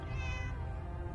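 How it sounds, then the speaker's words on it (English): A cat in Fallout 4 gives a single short meow over steady game background noise. "Oh no, that was a cat."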